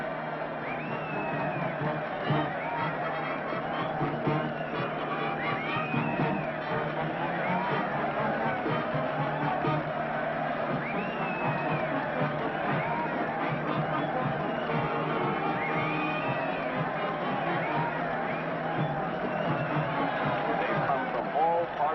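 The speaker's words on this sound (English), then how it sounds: "And look at that mob waving and cheering." A large crowd of Hawaiian well-wishers chatters and cheers in a steady, dense hubbub throughout, loud and without pause, with occasional higher calls rising above the babble.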